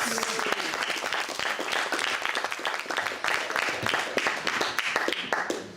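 Audience applause at a live stage magic performance, a full, steady wash of many hands clapping for the whole stretch, loud and close, with faint crowd voices mixed in.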